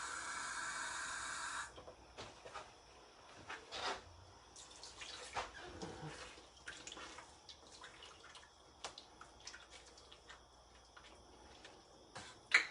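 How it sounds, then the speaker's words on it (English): Water goes into a pot of clam chowder with a brief loud hiss, followed by quieter scattered drips, bubbling and faint clinks in a kitchen. "So we will add water right now."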